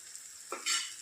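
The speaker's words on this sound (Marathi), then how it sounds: "आता आपला मसाला परतून झाला आहे याच्यावर तेल यायला लागले बघा" Masala paste frying in oil in a kadhai as it is stirred, a brief scrape followed by a bright sizzle that swells and holds, close and moderately loud with no voices.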